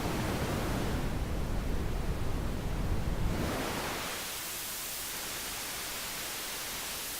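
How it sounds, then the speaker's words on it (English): Low-pass filtered white noise synthesized in Reason, a steady soft hiss that shifts from darker rumbling noise to brighter airy static partway through, with no voices. "it's applying a low pass filter to white noise, and this adjusts the slope."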